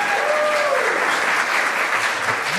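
Audience at a live comedy show applauding and cheering, a dense continuous wash of clapping that holds steady throughout with no talk over it.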